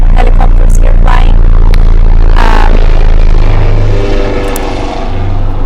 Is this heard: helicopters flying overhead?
yes